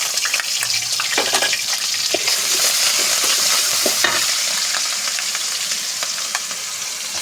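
Ground onion paste fries in oil with two bay leaves for a fresh pond-fish curry. A loud, dense sizzle goes on throughout, with quick spatula scrapes and clinks of stirring close by.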